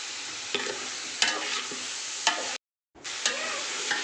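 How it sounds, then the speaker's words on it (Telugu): Chicken pulao ingredients with salt being stirred in a pot, soft sizzling under a handful of distinct scraping strokes at irregular intervals, broken by a brief silence near the end. "కొద్దిగా సాల్ట్ అన్నీ వేసి బాగా మిక్స్ చేసుకోవాలి ఇట్లా"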